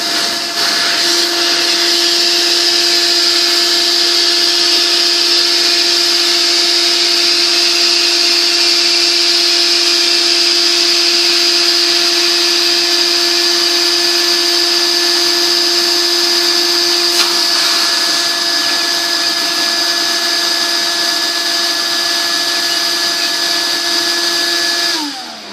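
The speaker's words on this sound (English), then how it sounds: "So you come over here to the nozzle itself, get the Shop Vac on," A Shop Vac runs continuously up close with a steady loud high whine and airy roar, blowing air to inflate a pool toy through its nozzle for the full stretch without any talking.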